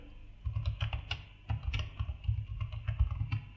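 Someone types on a computer keyboard in short bursts of rapid clicking keystrokes, close and clear, with a brief pause before a second longer run of tapping, no voices over it.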